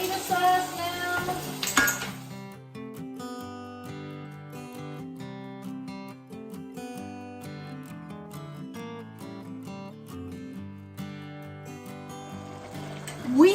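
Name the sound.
tomato sauce added to sizzling pan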